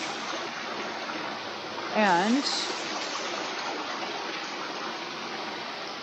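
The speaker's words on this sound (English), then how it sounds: "So of course you can see behind me this waterfall, which is a really glorious spot actually." A waterfall at an outdoor ritual spot roars as a constant, full broadband rush close by, with a man briefly starting to speak over it.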